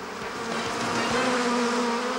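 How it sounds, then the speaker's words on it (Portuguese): A swarm of hundreds of thousands of bees around a single man makes a thick, steady buzzing drone, close and loud throughout. "um único homem versus um enxame de centenas de milhares de abelhas"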